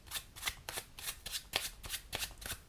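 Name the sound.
deck of cards being shuffled by a spectator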